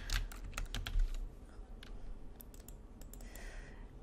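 Quick keystrokes clatter on a computer keyboard, a dense burst at first, then slower scattered taps, close and fairly quiet.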